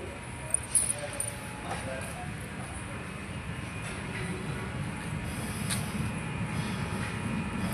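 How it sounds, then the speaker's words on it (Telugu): A train departing a station at night rumbles steadily nearby, a low continuous roll with faint metallic squeals, while people talk over it. "మేము వచ్చిన ట్రైన్ కూడా కదిలిపోయింది వెళ్ళిపోతుంది"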